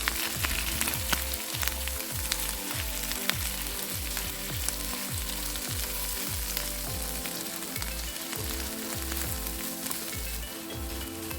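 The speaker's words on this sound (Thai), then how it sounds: "เราก็นำผักกาดดองที่เราเตรียมไว้ใส่ลงไปผัดเลยค่ะ" Pickled mustard greens are stir-fried with softly set egg in a hot pan. A loud, continuous sizzle carries a regular, rhythmic scrape of the spatula, with no voices.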